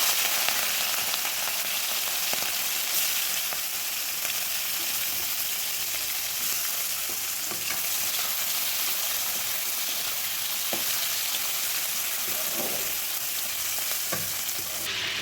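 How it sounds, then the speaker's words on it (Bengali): Fish pieces fry in hot oil in a kadai, a loud continuous sizzle and spatter close by, with faint occasional clinks and no talking. "এবারে মাছগুলো ভেজে নেব"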